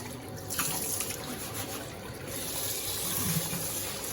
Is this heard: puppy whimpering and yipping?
no